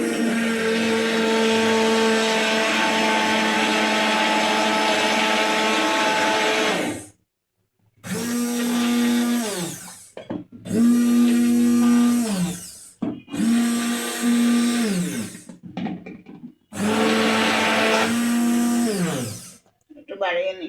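A blender purees lentil soup with a loud, steady whir, then cuts off and restarts in several shorter bursts with brief pauses between them.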